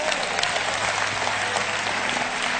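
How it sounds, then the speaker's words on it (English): A church congregation claps their hands together in a steady, crowded burst of applause, even and sustained across the whole moment with no one speaking over it. "Clap your hands, somebody."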